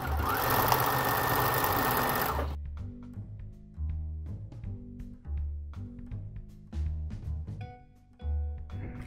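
Husqvarna sewing machine with a walking foot attachment stitching fabric: a loud steady run for about two and a half seconds, then a series of short stitching bursts separated by pauses, close up with no talking.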